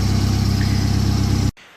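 A Mazda MX-5 Miata engine fitted with coil-on-plug ignition runs at a loud, smooth, even idle close by, then cuts off abruptly near the end.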